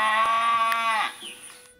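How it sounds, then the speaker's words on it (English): A cow gives a single loud, drawn-out moo that tapers off after about a second, heard alone and up close. "That's right, it's a cow."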